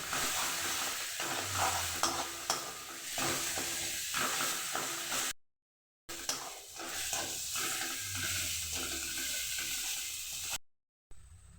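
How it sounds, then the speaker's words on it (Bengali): Spice paste with chili powder frying and being stirred in a pan for Bengali prawn curry, a steady close sizzle with scraping stir strokes and two brief silent gaps. "লঙ্কার গুঁড়ো দেওয়ার পরে মশলাটাকে 1 থেকে 2 মিনিটের জন্য কষিয়ে নেব"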